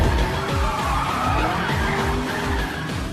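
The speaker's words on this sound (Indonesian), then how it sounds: "Balapan dimulai dan mobil Frank langsung disenggol oleh Joe." Race cars in the film Death Race skid and collide, with a dense, loud roar of engines and screeching tires sweeping continuously through the scene.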